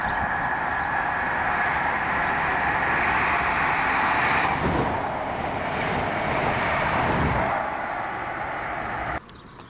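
A ScotRail Glasgow Queen Street to Aberdeen service hauled by class 43 power cars 43181 and 43141 passes at Monifeith, a loud, steady rumbling roar that holds for about nine seconds before dropping away abruptly at the end.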